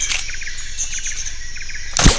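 A bird call in the video game Metal Gear Solid 3: Snake Eater, loud and close, with repeated shrill chirping notes over a steady high whine, then a sudden sharp burst at the end.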